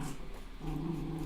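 Dogs growl playfully at close range, a low rumbling snarl that builds and holds steady through the second half, with faint whimpers mixed in.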